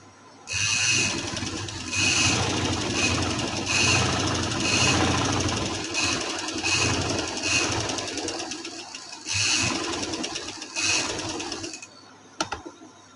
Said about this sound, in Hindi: इसी तरह इस साइड पे भी हम सिलाई लगा लेंगे।